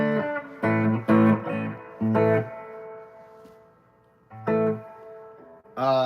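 Electric guitar played straight through an amp with only the amp's reverb on, distorted notes and chords in separate bursts that ring out and decay between phrases, loud and close, without talk.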